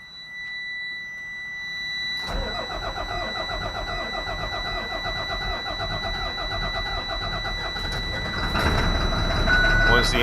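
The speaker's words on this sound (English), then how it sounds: "you will be able to turn the key to start the bus" A school bus engine cranks and catches at about two seconds, then settles into a steady rumbling idle. The engine rises louder near the end, and a faint high whine runs throughout.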